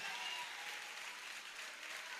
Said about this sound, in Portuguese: aplauda Ele o mais alto que você puder